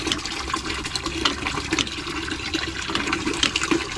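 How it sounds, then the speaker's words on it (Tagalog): Water poured by the dipperful onto soil where patola and tomato seedlings are planted in a home garden, a steady splashing and trickling wash that stays close and fairly loud throughout, with no voices. "Diligan po natin ng tabo-tabo na lang."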